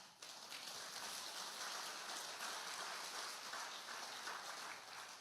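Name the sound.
weak, quiet applause in a church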